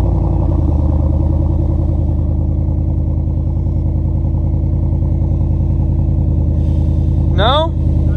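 A drift car's engine idles steadily with a loud, close, even rumble, ending in a brief rising whine near the end.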